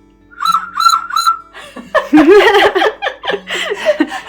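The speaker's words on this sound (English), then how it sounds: "it is a collection of whistles. They are all made of terracotta." A terracotta whistle gives three short bright trilling toots, followed by laughter and voices with a few more whistle notes mixed in.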